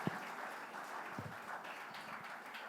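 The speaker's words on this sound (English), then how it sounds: "Please, a round of applause for them." Applause from a seated audience at an education conference session on women in STEM, a steady wash of many hands clapping at moderate distance, continuing evenly throughout with no voices standing out.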